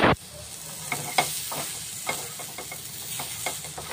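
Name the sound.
soya chunks frying and stirred in oil with masala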